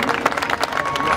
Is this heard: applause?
yes